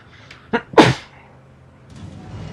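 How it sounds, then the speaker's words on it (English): A person lets out a sharp sneeze, a quick intake followed by one loud explosive burst up close, with a quiet game soundtrack murmuring afterward. "I had to sneeze real bad."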